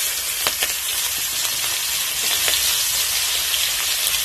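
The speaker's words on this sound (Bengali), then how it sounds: "এখন মাছ ভাজার তেলে দিয়ে দেবো পেঁয়াজ কুচি" Chopped onion sizzling loudly in oil left over from frying tilapia fish, a close, constant crackling hiss with occasional sharper pops and stirring clicks throughout.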